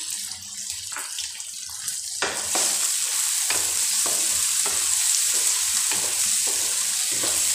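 Four green chilies frying in a pan, a loud bright hiss that swells after about two seconds and holds steady, with intermittent spatula taps and stirring knocks, close up and without speech.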